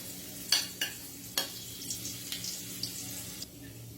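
Chopped ginger dropped into hot cooking oil, giving a steady close sizzle with a few sharp scrapes and clinks of stirring in the first half, no voices.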